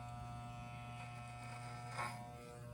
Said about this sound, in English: This is a beard trimmer, not a head trimmer